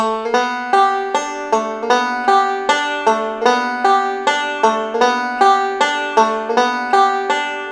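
A banjo repeats a quick plucked four-point hammer-on lick over and over in a steady rhythm, bright ringing notes with no voices.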